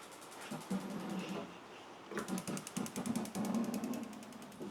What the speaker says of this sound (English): just pressing it down is going to do the igniter.